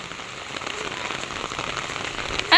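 Steady rain patters on a surface, a dense continuous hiss up close, with a brief louder burst at the very end.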